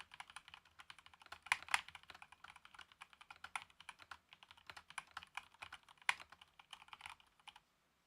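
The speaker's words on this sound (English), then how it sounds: "Mechanical keyboards can be so loud." Mechanical keyboard typing recorded close up: a continuous stream of sharp, clacky keystrokes in an irregular rhythm for about seven and a half seconds, with no talking.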